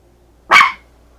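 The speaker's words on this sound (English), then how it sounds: "What are you barking at?" One short, sharp bark from a dog, close by and loud, against an otherwise quiet background.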